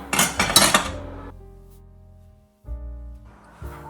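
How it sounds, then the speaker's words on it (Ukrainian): Ripe tomatoes go into glass jars, giving a few clustered knocks and clinks of glass and produce in the first second, then quiet, with another soft knock near the end. "І далі ці помідори вкладаю в банку."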